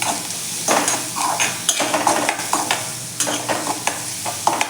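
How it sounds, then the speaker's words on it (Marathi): A spoon stirs turmeric into a sizzling pan of green chickpea chutney mixture, with repeated scraping and clinking against the pan over a soft frying hiss, close and fairly loud, no speech. "अगदी थोडीशी हळद घेतलेली आहे ती घालून घेऊयात आणि ती देखील व्यवस्थित अशी मिक्स करून घेऊयात आपण"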